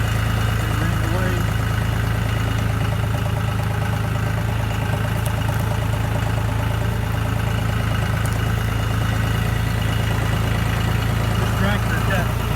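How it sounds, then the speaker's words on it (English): A tractor engine idles with a steady, low, rumbling drone throughout, close by and unchanging. "Knock on wood, this has been a really good tractor for us."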